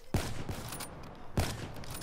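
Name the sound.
sniper rifle shots in video game Call of Duty Black Ops III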